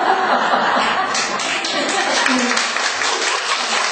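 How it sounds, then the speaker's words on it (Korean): A church congregation applauds in a short burst of clapping mixed with chuckles and laughter, with voices murmuring through the room. "여러분의 박수가 굉장히 위로가 됩니다."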